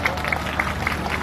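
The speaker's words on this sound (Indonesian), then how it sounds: "Yang sebelah kanan mana tepuk tangannya?" A crowd claps at a madihin performance during the closing ceremony of the 55th MTQ on Pulau Sebuku, a dense, steady wash of applause with a rhythmic pulse and a voice over it.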